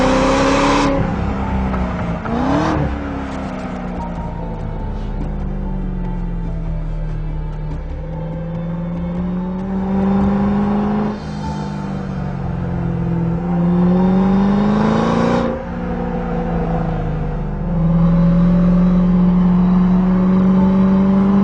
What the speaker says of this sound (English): there's a giant supercharged V8 up front